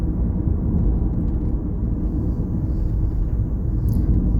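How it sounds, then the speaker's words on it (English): A car on a driving lesson speeds up toward 40 mph, heard from inside as a steady, dense low engine and road rumble with no breaks. "Check your mirror, increase the speed, get yourself up to 40 mile an hour."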